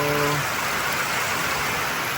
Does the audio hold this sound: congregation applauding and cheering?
no